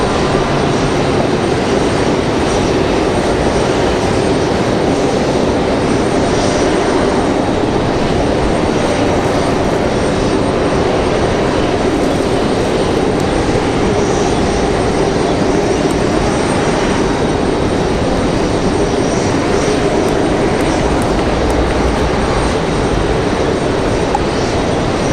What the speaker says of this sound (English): Republic Airways 4567 coming in from Nashville, Tennessee